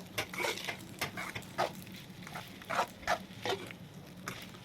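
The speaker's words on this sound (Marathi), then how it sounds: "आता आपण छान असं मिक्स करून घेऊया या साबुदाण्याला" A spoon stirs sabudana khichdi in a pan, with repeated scraping, patting strokes at an uneven rhythm and a faint sizzle underneath, close and moderately loud.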